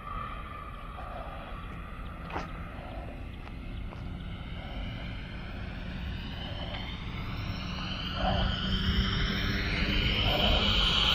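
A radio-controlled Freewing F22 Raptor jet powered by a KingTech 4.5 kg turbine comes in to land, its steady turbine whine rising gradually in pitch and loudness toward the end, with faint wind rumble underneath and no talk.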